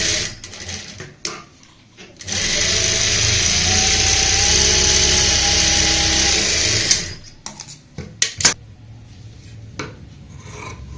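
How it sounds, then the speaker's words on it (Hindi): A sewing machine stitches piping around a neckline on plain fabric, a steady loud mechanical whir running about five seconds before stopping, followed by scattered clicks and fabric handling. "दूसरी साइड भी सेम ऐसे ही सिलाई लगा लेते हैं।"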